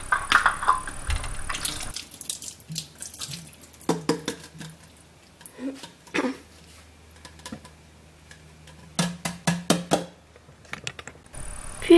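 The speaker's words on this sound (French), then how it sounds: "je vais tout simplement vider l'eau du biberon" Water being emptied from a baby bottle into a sink, with short bursts of splashing and trickling, alternating with quiet gaps and light handling clicks, heard close and alone.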